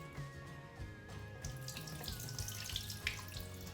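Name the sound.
watering house plants underneath the foliage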